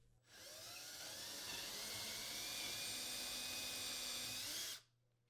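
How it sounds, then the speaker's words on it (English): A power drill with a 3/16-inch bit drills a pilot hole in wood, spinning up and whining steadily for several seconds at close range, then winding down and stopping. "Use a 3/16-inch diameter drill bit when drilling pilot holes for the larger mounting screws"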